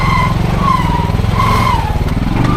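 Honda Pioneer 500 side-by-side engine putters in low gear with a steady, throbbing low drone close by, its pitch rising and falling slightly as it pulls, without talk.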